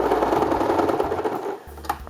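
A sewing machine stitches a double-sided fleece blanket, a close, loud rapid mechanical whirr that runs for a moment, then stops with a faint click.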